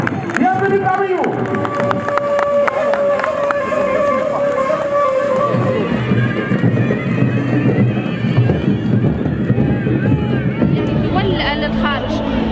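Horses at a festival parade give a harmonic neigh near the start, then hooves clip-clop steadily through a busy stretch of crowd noise and voices.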